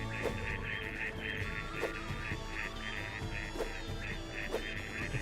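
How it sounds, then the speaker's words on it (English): Birds in the city-building game Pharaoh: A New Era give goose-like honking and quacking calls that repeat at a steady rhythm over a continuous ambient bed, moderately loud and with no one talking. "The birds are being so loud"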